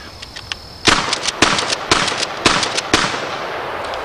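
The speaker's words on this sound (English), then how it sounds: "let's take a look at recoil of our 20 gauge cruiser here" A 20 gauge cruiser shotgun fired outdoors: five sharp, loud, close reports spaced roughly half a second apart, each followed by a short decaying echo, with no talking.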